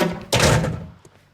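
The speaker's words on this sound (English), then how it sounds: "Open the door. There we go." A heavy wooden door in the Sherlock Holmes: Crimes and Punishments video game opens and shuts with one loud, close slam, then a fading rumble and a faint tap.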